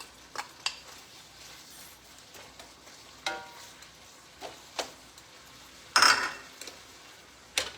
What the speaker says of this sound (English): this is really simmering perfect now